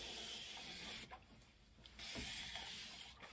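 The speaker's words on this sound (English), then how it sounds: "I'm going to spray the edges" Short bursts of hissing hairspray from a can, a couple of quick sprays onto the edges of the hair separated by brief pauses, close and fairly soft.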